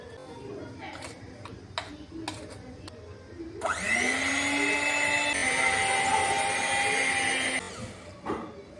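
An electric mixer beats chocolate cake batter in a home kitchen, whirring steadily for several seconds after a few light taps, with someone talking around it.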